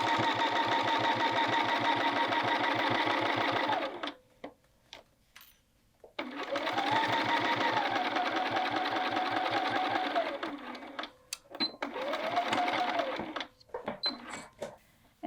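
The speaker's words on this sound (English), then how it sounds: "I'm just going to stitch across." A sewing machine stitches across a jacket welt pocket in three close, steady runs of rapid mechanical whirring, separated by short pauses filled with small clicks and handling taps.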